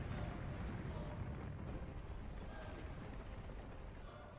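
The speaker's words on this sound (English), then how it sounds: "This explosion is not related to that." A rumbling explosion from a Zelda video game trailer, a dense, sustained low roar that fills the whole moment and slowly tapers, with no voices over it.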